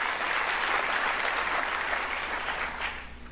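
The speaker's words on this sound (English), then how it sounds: "Please give those individuals a round of applause" Sustained round of applause from an audience at a city State of the City address, dense and even clapping throughout that tapers off slightly at the end.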